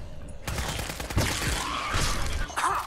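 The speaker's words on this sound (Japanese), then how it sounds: "なんか爆発した" A Fallout 4 explosion erupts as a loud, crackling burst of debris and blasts that rumbles and clatters for a few seconds, with sharp impacts scattered through a dense noisy roar.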